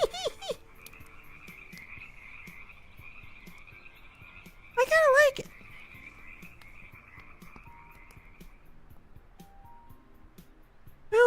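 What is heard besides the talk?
frogs croaking in forest, VRChat video game world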